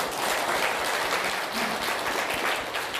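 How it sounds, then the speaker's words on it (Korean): A church congregation at a Korean worship service breaks into sustained, dense applause that stays steady and fairly loud for the full stretch, with no voices standing out. "우리 하나님께 영광의 박수 올리겠습니다"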